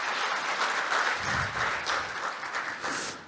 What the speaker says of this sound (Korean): 뜨거운 박수를 다시 한번 보내주시면 감사하겠습니다.